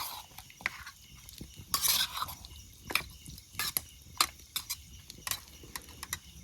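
Food stirred and scraped in a pot at a night jungle campsite in the Konkan, giving irregular clinks and scrapes of a utensil against metal, fairly close, with no talking.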